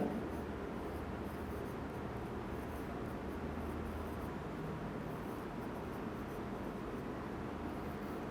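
Chalk or marker scratching steadily on a board during a chemistry lecture, a continuous soft scraping texture running the whole time with no talk over it.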